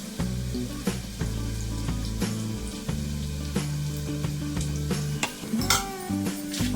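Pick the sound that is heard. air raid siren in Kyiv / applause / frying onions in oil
frying onions in oil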